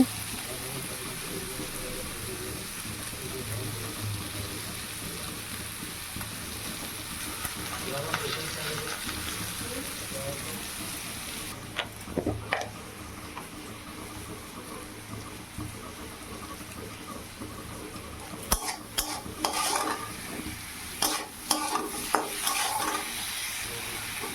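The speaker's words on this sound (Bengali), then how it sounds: "এই যে আলুটা দিয়ে দিলাম, লবণ, হলুদ, লঙ্কা সব দিয়ে ভালো করে কষিয়ে নেব।" Potatoes with salt, turmeric and chilli sauté in a pan, giving a steady sizzle with scraping stir strokes that grow more frequent toward the end, close and moderately loud.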